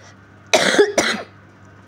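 Two close, loud coughs sound one after the other, harsh and bursting, followed by quiet room tone.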